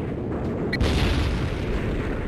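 Explosion blasting through a marked wall in Killzone Liberation, a heavy low boom with a sharp burst near the start that rolls into a sustained rumbling roar lasting the whole moment.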